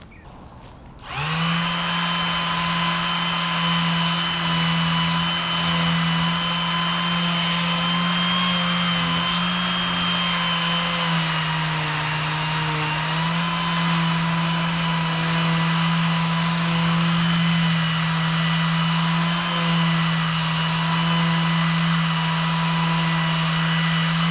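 Ferrex orbital sander from Aldi switched on and running on a resin coffee table, a loud steady motor whine starting abruptly and holding constant, with slight pitch shifts as it moves across the surface.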